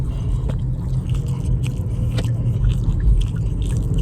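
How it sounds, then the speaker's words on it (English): Open-mouthed chewing, with wet, smacking bites and small crunches repeating unevenly up close over a steady low rumble. "I didn't mean to chew with my mouth open"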